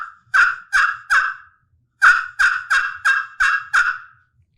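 Hen yelps from a wild turkey imitated on a handmade turkey call: a run of three sharp yelps, a brief pause, then six more in steady rhythm, loud and close with no voices.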